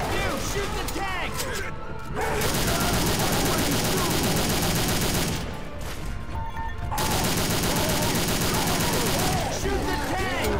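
Dense, sustained gunfire in Left 4 Dead 2 pours into a Tank, loud rapid shots and 12-gauge blasts nearly filling the whole stretch with two brief lulls, while players shout over it.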